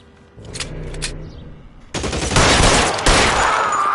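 Rapid automatic gunfire in L.A. Noire breaks out after a quieter stretch with a few faint shots, then a loud sustained burst continues to the end.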